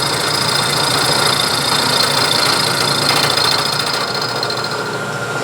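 A milling machine cutting a shallow slot in the back side of a carriage stop body part, giving a loud, steady mechanical drone with a dense high whine and grinding chatter that holds for several seconds without talk.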